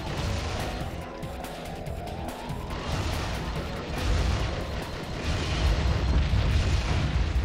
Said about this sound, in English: Yeah, rammed you with my tiny car.